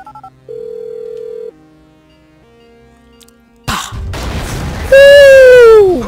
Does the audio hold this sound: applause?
no